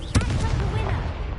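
A Stupefy spell is cast in Hogwarts Legacy, giving a short, sharp magical blast with a booming thump over a brief voiced layer.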